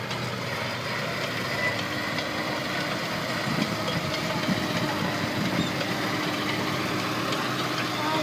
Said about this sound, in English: in North America you will see two running M18s together